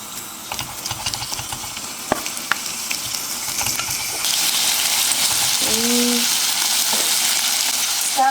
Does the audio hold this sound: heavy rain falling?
no